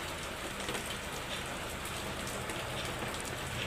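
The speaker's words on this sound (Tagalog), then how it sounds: "Lakas ng ulan. May bagyo pa rin." Steady heavy typhoon rain pours down, a dense, even hiss of drops drumming on surfaces with no pauses.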